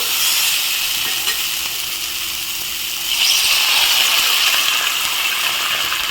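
Bottle gourd pieces fry and get stirred in a pan with oil, producing a loud, steady sizzle with scraping stir strokes. The sizzle swells stronger partway through, and no one speaks.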